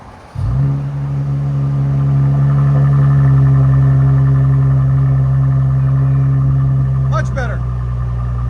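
A 2018 Mercedes E400 with a 3.0L twin-turbo V6 and straight-pipe exhaust idles loudly and steadily after starting up, its deep drone holding even with a faint rise near the end.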